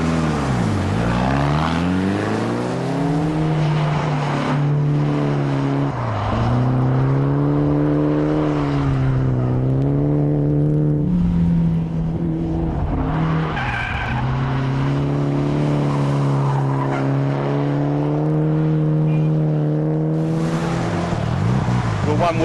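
Mitsubishi Lancer GSR driven hard on a race track, its engine rising and falling through repeated revs and gear changes, loud and close throughout with tire noise in places.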